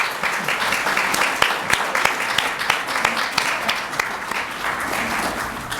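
A steady round of applause for the winners at a tech presentation event, many hands clapping in a dense, even wash with a few sharper individual claps standing out throughout.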